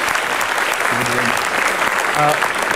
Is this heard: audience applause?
yes